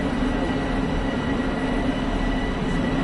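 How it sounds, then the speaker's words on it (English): An LIRR train pulling into the underground platform at Atlantic Terminal, a steady loud rumble and roar of rail cars that fills the whole stretch, with no talk over it. "Oh, I hear a train. Oh, it's a train coming in right here."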